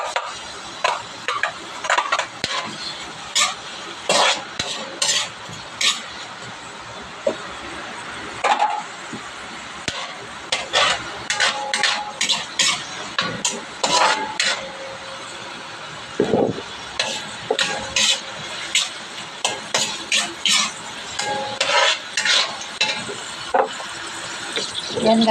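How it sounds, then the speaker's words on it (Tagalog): Chopped onions sauté in a hot pan for ginataang labong, with a low sizzle and repeated sharp scrapes and clicks of stirring throughout, close by, while a person talks over it. "Ay, puminit na. Lagyan natin yung sibuyas."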